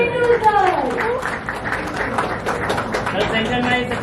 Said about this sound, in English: please give a huge round of applause for none other than Sachin Tendulkar